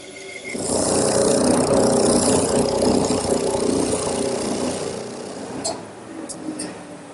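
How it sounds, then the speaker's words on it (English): A saw cuts out the curved legs of a wooden Queen Anne table, a loud, steady whine that runs continuously for several seconds before fading, followed by a few brief clicks. "Now it's just a matter of cutting out each leg, leaving a little bit of the line"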